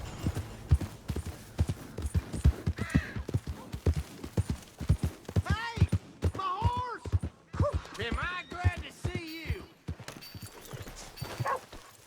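Horse hooves clip-clopping in the Red Dead Redemption 2 game world, a steady rhythmic trot running under someone talking loudly throughout.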